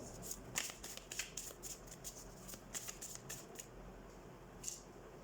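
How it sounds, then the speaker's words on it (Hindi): Tarot cards being shuffled by hand, giving repeated crisp riffling bursts at an irregular pace, close and fairly quiet against a soft background hiss. "तो सबसे पहले हम कार्ड शफल कर लेते हैं"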